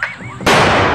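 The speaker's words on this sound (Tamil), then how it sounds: "யாரா அவன் பட்டாசு தூக்கி மேல போடுறது?" A firecracker tossed into the air during Diwali celebrations bursts with one sharp, loud bang, after a brief wavering tone.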